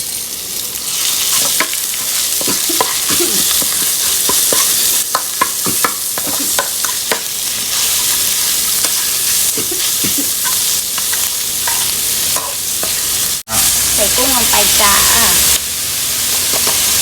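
Minced pork and chili stir-fried in a hot pan for a spaghetti dish, a loud continuous sizzle with steady scraping strokes of the spatula, voices talking over it now and then.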